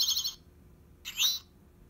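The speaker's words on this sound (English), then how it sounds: "The eastern towhee. He says towhee." Two short, bright chirping calls of an eastern towhee separated by a pause, clear and fairly close against quiet background.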